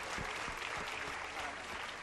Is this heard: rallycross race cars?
no